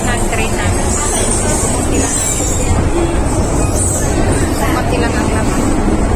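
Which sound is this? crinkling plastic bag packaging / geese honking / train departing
train departing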